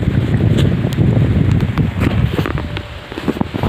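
Strong wind roars and buffets the microphone during a thunderstorm, a loud, continuous rush with scattered crackles and taps mixed in.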